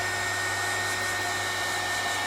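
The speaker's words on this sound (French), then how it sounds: "Pour aider un peu aussi, ce qu'on peut faire, c'est le heat gun." A heat gun blows hot air over freshly poured resin for a salt and pepper mill, giving a steady, even rushing hiss with a low hum that runs unchanged throughout, with no talking.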